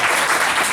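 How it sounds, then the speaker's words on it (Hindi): A study-circle audience claps loudly and continuously at a talk session, a dense close burst of applause lasting under a second. "जोरदार तालियां"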